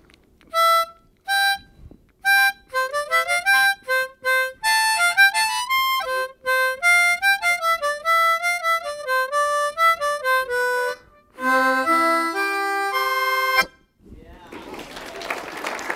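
Someone plays Bach's Minuet in G on a harmonica during a live keynote, a clear, reedy melody of separate notes with brief pauses, ending with a short stretch of applause.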